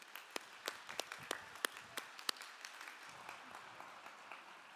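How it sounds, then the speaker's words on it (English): A small university commencement crowd applauds faintly from a distance, scattered individual claps popping out over a light, thinning patter. "Please join me in giving them a round of applause"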